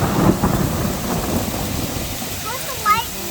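Thunder rumbles during a hail thunderstorm over a garden. A low, rolling boom comes at the start over steady rain, then fades, with birds chirping faintly near the end.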